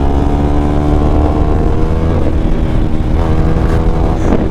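A motorbike climbs a hill road in the Himalayan foothills near Rampur Bushahr, its engine loud and close with a rising, revving drone and shifting pitch as it accelerates hard. No speech.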